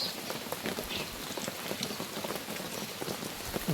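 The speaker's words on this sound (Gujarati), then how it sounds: "વરસાદ ચાલુ થઈ ગયો આજે" Monsoon rain falls steadily on surfaces outdoors, a dense, even patter of drops heard close and continuous with no one speaking.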